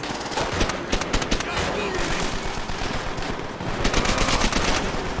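Dense, continuous machine-gun fire and rapid gunshots fill a Call of Duty WWI battle, loud and relentless, with brief shifts in intensity throughout.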